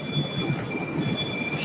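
A Moscow metro train runs at speed, a steady low rumble of wheels on rail with faint high squeals from the carriage, continuous and fairly close with no talk.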